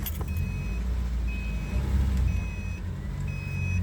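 A wrecked Subaru car with its engine rumbling steadily at close range, while a thin electronic beep repeats about once a second over the low, even drone.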